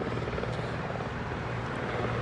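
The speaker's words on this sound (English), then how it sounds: "these helicopters been flying in and out of here left and right, landing on the White House lawn over there" Helicopters flying in and out near the White House, landing on its lawn: a steady, dense rotor drone that fills the whole stretch without pause, moderately loud and unbroken.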